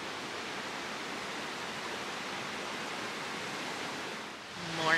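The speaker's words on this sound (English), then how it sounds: "I slept beside this beautiful river last night, so I was sleeping to this" A river flows beside a campsite on the Pacific Crest Trail, giving a constant rushing roar of water that stays steady and close before a brief shift near the end.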